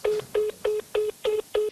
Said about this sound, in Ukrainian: А у відповідь – самі гудки.